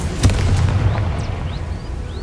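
Confringo explosion spell cast in the video game Hogwarts Legacy, a loud close blast with a sharp onset that gives way to a deep rumbling roar, then a long fading tail.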